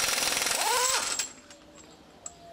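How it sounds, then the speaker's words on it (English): An air impact wrench takes the axle nut off a car's wheel hub during a CV joint and axle repair, with a loud close rattling burst that stops after about a second, followed by a few faint clinks. "being a mechanic, I got an air gun and an impact wrench"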